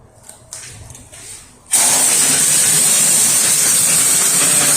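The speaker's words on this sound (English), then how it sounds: "we're going to try opening the ball valve on this sludge sucker" A sludge sucker vacuum with its ball valve opened, a sudden loud, steady rushing hiss of air that starts abruptly and continues unbroken after a few quiet knocks.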